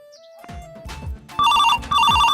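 A phone rings on an unanswered call: an electronic ringtone sounds in two loud, repeated melodic bursts, preceded by a few soft thumps and a faint tone.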